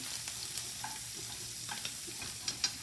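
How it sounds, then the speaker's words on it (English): Scallops sizzling in foaming brown butter as they are basted with a spoon, a steady close crackle with a few soft clinks of the spoon against the pan near the end. "now what I'm doing is basting the scallops on the top, so that brown butter will give that flavor"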